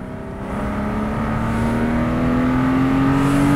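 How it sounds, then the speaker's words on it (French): A BMW engine revs under hard acceleration, a loud, close, steady drone whose pitch climbs smoothly throughout. "Allez, j'accélère direct."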